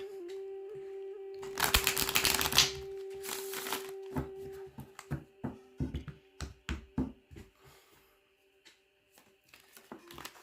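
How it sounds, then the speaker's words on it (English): A brief burst of riffled cards around the two-second mark, followed by a run of soft, irregular taps and slaps of cards being cut and stacked. "I'm just going to cut them, shuffle them, and then we'll ask."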